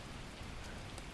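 Steady rain falling in the survival game The Last Plague: Blight, a dense even hiss of drops on surfaces, close and continuous without any voices.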